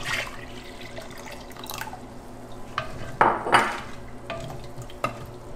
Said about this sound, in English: I'm going to add 6 cups of our homemade veggie broth.